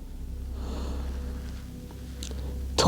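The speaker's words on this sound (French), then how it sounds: "On est là pour 5 respirations" Slow, soft nasal breathing during a yoga session, a long quiet exhale followed by a sharper sniffing inhale at the end, close and alone without talk.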